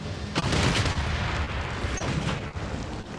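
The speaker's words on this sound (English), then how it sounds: "And then of course you're just gonna also bombard that city." City bombardment in the strategy game Civilization VI, a dense, continuous roll of booming artillery-like blasts layered over one another, loud throughout the short span with no voice.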